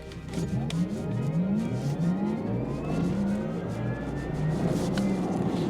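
An electric car of about 200 horsepower with a two-speed gearbox accelerating hard, giving a loud, steady whir whose rising whine climbs in pitch throughout.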